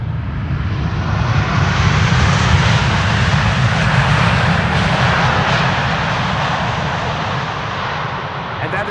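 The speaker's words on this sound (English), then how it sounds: "And that is bouncy landing." An airliner lands at Amsterdam Schiphol Airport, a loud steady engine roar that swells and then slowly fades over several seconds, with no distinct breaks.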